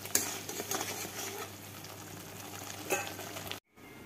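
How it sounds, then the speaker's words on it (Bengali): Spices with turmeric, salt and Kashmiri chili powder being stirred and sautéed in a pan, a low steady sizzle with scraping stir strokes, fairly quiet, cutting off abruptly near the end. "এবারে এটাকে ভালো করে কষাতে থাকবো।"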